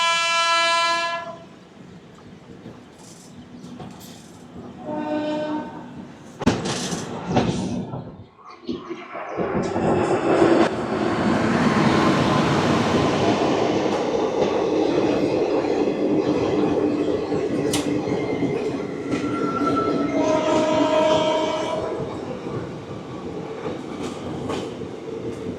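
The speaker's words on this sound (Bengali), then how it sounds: "আর যেহেতু ট্রেন লেট করে এসছে, সিগন্যাল অলরেডি হয়ে গেছে, ট্রেন কিন্তু ছেড়ে দেবে" The Saraighat Express pulls out of Bolpur station: a loud horn blast opens, a second horn follows a few seconds later, and then a heavy, rising rumble of moving coaches and wheels fills the rest of the scene.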